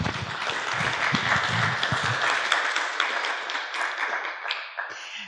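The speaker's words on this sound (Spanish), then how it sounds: "creo que los aplausos hablan por sí solos" An audience at a documentary premiere panel gives sustained applause, a dense wash of many hands clapping that fades toward the end.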